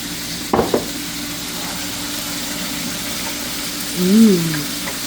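Beef stir fry with sweet soy sauce sizzles in a pan, a low steady frying hiss close by, broken by a brief clatter near the start and a short tonal whine toward the end.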